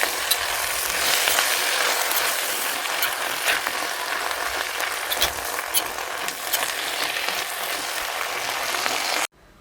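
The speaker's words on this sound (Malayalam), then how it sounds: "ഇനി ഈ ചൂടായ വെളിച്ചെണ്ണയിലേക്കും ഉള്ളിക്കൂട്ടിലേക്കും നമ്മൾ എടുത്തു വെച്ചിട്ടുള്ള മുരിങ്ങയില ചേർത്ത് കൊടുക്കാം" Drumstick leaves frying in hot coconut oil with onions, stirred steadily in the pan, give a loud, continuous sizzle with scraping stir sounds throughout until it cuts off abruptly near the end.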